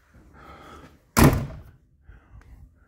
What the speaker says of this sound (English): Back door opens all the way out.